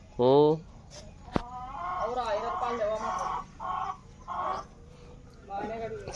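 Chickens eating scattered grain cluck in short bursts close by, a rooster's call rising at the start, with a sharp knock partway through.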